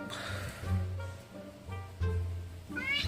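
A cat meows several times up close, loud drawn-out calls with short pauses between them and no other sounds.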